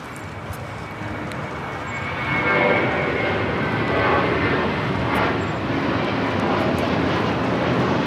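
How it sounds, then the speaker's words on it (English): A JetBlue Airways A321 airliner takes off from LAX on a flight to Fort Lauderdale, its jet engines producing a loud, continuous broadband roar that swells early on and holds steady throughout, with no talk. "This is the ultimate experience taking off to Fort Lauderdale. JetBlue Airways Flight 700 on an A321."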